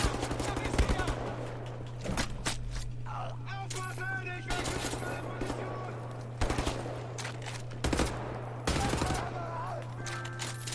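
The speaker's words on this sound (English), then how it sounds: "okay, this is an automatic weapon." An automatic weapon fires in repeated loud bursts in the shooter game Wolfenstein: The New Order, several rapid volleys spread across the clip with brief gaps and game sounds between them.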